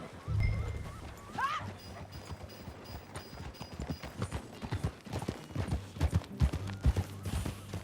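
Horse hooves clip-clop at a steady gait in Red Dead Redemption 2, growing louder toward the end, with a brief whinny-like call and soft background ambience.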